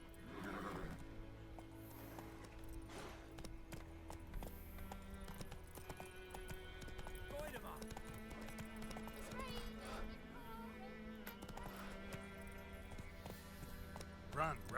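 Roach, a horse in The Witcher 3, gallops with rhythmic hoofbeats under in-game music and a whinny, while a voice speaks intermittently over it.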